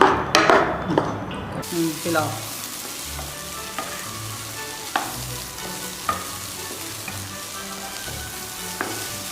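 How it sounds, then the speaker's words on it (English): A corn mixture roasts in a hot pan with a soft sizzle, broken by a spoon's sharp scrapes and knocks against the pan at irregular intervals. "Mix it well together and roast it for about"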